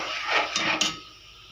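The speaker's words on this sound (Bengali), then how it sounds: "দিয়ে দেব সেদ্ধ করা জলপাই। এটাকে ভালো করে নাড়তে হবে।" Boiled olives are stirred in a pan, with a few scraping, clacking strokes of a spoon against metal, close up and brief, with no talk.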